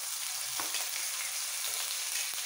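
Garlic paste frying in hot oil with cumin seeds for an egg curry, giving a steady, even hiss of sizzling that stays at a constant level throughout, with a few faint pops near the pan.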